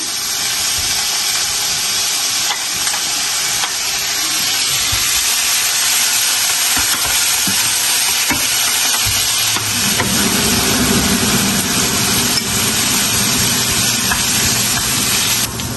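Garlic and ginger frying in a ladle of hot mustard oil give off a steady, loud sizzling hiss. It runs unbroken from start to end and swells slightly in the second half.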